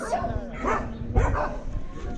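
Several dogs bark and yip at a crowded dog shelter in Huanchaco, Peru, a mix of overlapping barks and whimpers at moderate distance, with a person talking over them.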